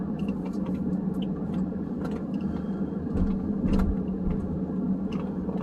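A Ford car's engine hums steadily while driving, a low continuous drone mixed with road and cabin noise and some faint rattles, with the throttle easing up and down a little toward the end.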